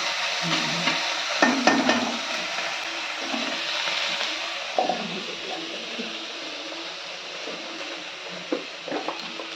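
Mutton sizzles as it fries with onion, chilli, garlic, turmeric, whole cumin and coriander, with steady frying hiss and intermittent clinks of stirring against the pan, close up.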